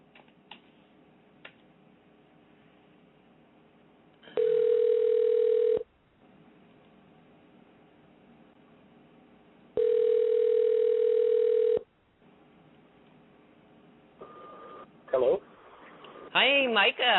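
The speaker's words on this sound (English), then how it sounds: "you're going to hear some beeping and some ringing," Telephone call ringback, two long steady ring tones separated by quiet line hiss, followed by a voice answering and people talking over the phone line.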